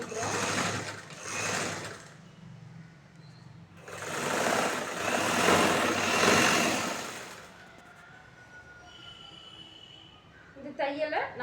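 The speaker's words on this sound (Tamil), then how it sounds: "ஸ்ட்ராங் தையல் போட்டுக்கிறோம்." A sewing machine stitches a chudithar bottom in several bursts of fast, close mechanical whirring separated by pauses, with someone talking in between.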